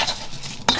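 A quick stir of rice through a tablespoon of olive oil in a wok, with a short scrape of a utensil and a sharp clink against the pan near the end.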